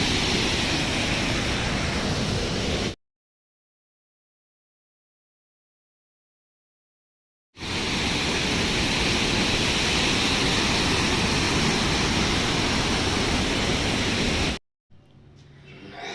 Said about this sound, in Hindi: ये झरना आप देखें और इस झरने के साथ थोड़ी देर बैठें